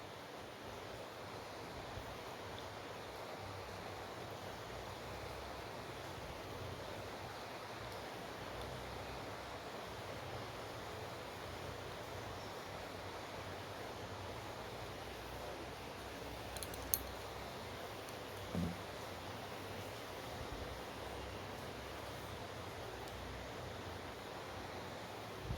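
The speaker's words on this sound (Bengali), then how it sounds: "তেল গরম হয়ে গেছে, এবার আমি এর মধ্যে মিশ্রণ থেকে অল্প অল্প করে ছেড়ে দেব।" Fish roe fritter batter, Bengali-style macher dimer bora, dropped in small portions into plenty of hot oil, giving a faint, even, continuous sizzle throughout, with a couple of tiny ticks near the end.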